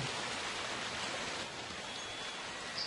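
A waterfall blocks an upper water passage in the Resident Evil video game, giving a constant soft hiss of falling water at moderate level with no talk.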